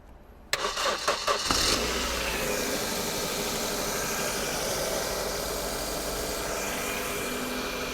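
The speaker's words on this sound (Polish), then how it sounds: "należy spróbować odpalić silnik" A car engine, jump-started with a 12V power bank, cranks for about a second with a rapid rhythmic chugging, then catches and settles into a steady, close idle.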